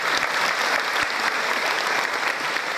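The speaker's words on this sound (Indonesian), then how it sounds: "Tepuk tangan buat mbah saya." An audience at an Indonesian motivational talk on parenting and children's worship gives dense, continuous applause, with loud, even clapping throughout and no voices standing out above it.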